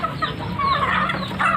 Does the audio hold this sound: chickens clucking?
yes